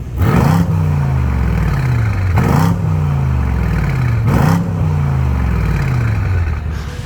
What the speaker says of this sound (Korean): AMG 배기음 확실히 만들어드렸습니다. 고성능 세단 진짜 끝판왕 호랑이 배기음